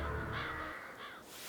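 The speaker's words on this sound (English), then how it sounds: "he spotted an enormous flock of crows covering the reeds" Harsh crow caws from a large flock of crows covering the reeds. Two rasping calls overlap and are heard fairly close, with no talking.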